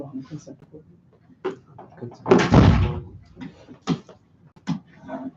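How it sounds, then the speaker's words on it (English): An office door swings shut with one solid slam, loud and close, amid scattered talking voices in a room. "close the door, please. And also my office door."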